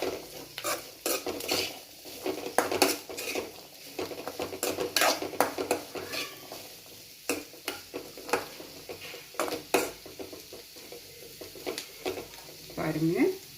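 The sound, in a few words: stirring black chickpea sundal with coconut in pan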